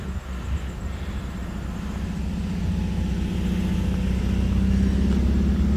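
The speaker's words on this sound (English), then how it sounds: "Yeah, that's the caravan of cars." Cars roll along a park road in a steady line, their engine and tire rumble building gradually from moderate to louder over several seconds with no talking.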